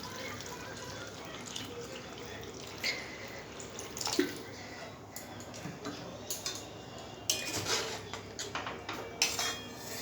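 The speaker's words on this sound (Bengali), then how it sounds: "এবার আমি এর মধ্যে জল দিয়ে দেবো।" Water goes into a pan of cooked-down fish curry masala for a rohu curry, giving scattered splashes, drips and light clinks of a utensil against the pan over a low background hiss, close and fairly quiet.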